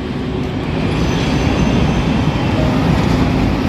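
Delhi metro train rumbling loudly and steadily through a station, a continuous dense roar of wheels and carriages with faint squealing, heard alone without voices.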